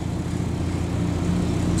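An ALS intercity bus arrives on its run from Pulau Punjung toward Java, a steady low engine rumble close by with no break.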